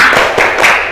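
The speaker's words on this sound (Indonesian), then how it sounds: "Coba kita tepuk semangat biar tambah semangat." Children clap together in a classroom, a few loud, close claps in quick rhythm.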